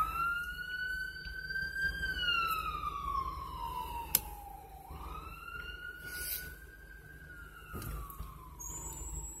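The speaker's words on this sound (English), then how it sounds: "There's always an ambulance somewhere." A wailing ambulance siren rises and falls slowly, heard from some distance outdoors in Florida over faint traffic rumble.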